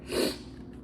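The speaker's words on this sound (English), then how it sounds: "I'm not sniffing because I'm crying." A single short, close nasal sniff, a quick sharp intake through the nose that fades into faint breathy noise.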